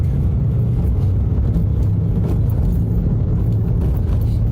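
Road noise rolls continuously from inside a car moving through Bellevue Junction, Grenada, in light morning traffic on a rainy, overcast day. The low rumble stays dense and even, with no voices.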